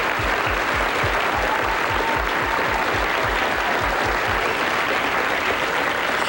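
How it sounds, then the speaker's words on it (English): Comedy club audience at a 1989 stand-up show breaking into applause, a dense, steady roar of clapping close and loud throughout, with a rhythmic thumping pulse beneath it in the first few seconds. "Let's give all our performers tonight a big round of applause."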